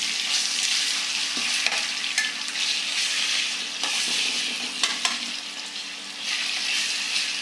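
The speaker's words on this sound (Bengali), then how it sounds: "ভালো করে কষিয়ে নেব আদা রসুনটা, নাহলে মশলার কোনো গন্ধ থাকবে না।" Ginger-garlic paste sautés with browned onions in a pan for a rohu fish and pumpkin curry, a steady frying sizzle broken by a few scraping stirs, with no voices.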